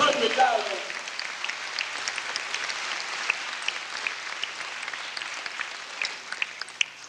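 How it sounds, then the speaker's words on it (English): An audience at a Los Angeles Nation of Islam gathering applauds a donation with sustained clapping that rises sharply at first and then settles into steady applause. "Give her a round of applause."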